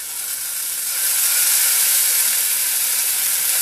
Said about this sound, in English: We're going to deglaze slowly here.